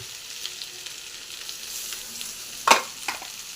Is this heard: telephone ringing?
no